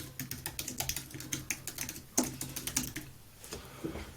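Steady typing on a computer keyboard into a search bar, a quick run of close, crisp key clicks with brief pauses and no talking.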